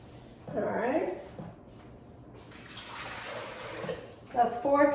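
Water poured into a pot for navy bean soup, splashing in a couple of close bursts with quieter pauses between.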